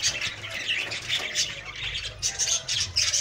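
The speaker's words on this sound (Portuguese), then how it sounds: "Que os periquitos faz muito barulho, é muito periquito" Budgerigars chatter and squawk in an aviary, a busy flock of rapid, scratchy chirps and short raspy calls in uneven bursts, fairly close with no talking.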